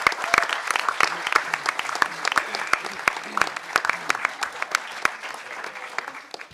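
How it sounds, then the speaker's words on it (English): Dense, steady audience applause fills a hacker conference hall, many hands clapping at once with sharp individual claps popping out, sustained throughout and slowly easing toward the end. "Give him a huge round of applause."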